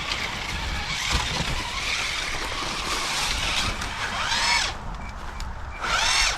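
Tamiya DF02 RC car on a track, its tires skidding and scrubbing in loud hissing bursts as it spins out, with a sharp whirring motor rising in pitch near the end; no talking.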